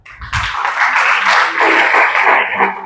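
A church congregation breaks into loud, sustained applause and cheering after a low thud, a dense wash of clapping that swells and holds for nearly three seconds.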